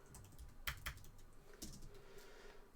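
Typing on a computer keyboard, a few quiet, irregular key clicks with a couple of sharper taps, faint and close with no talking.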